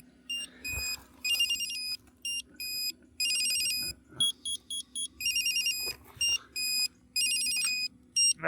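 Pebblebee smart tracker sounding its alert: bright, high electronic beeping chirps in short repeated bursts with brief gaps, loud and close over a low steady hum, with no talking.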